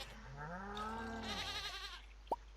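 A single sheep in the Stardew Valley video game lets out a long wavering bleat, clear and close, followed by a short click near the end.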